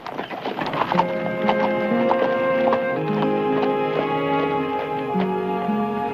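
Hooves of horses being ridden clip-clop in a steady, fairly close rhythm, heard under a sustained musical score with no talking.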